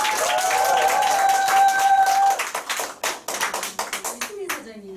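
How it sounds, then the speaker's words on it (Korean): Audience clapping at a Korean network marketing training seminar starts under lingering voices and a tone, then thins into scattered individual claps that fade near the end as a voice returns. "우리 백만장자 김건호사님께 감사 박수드립니다."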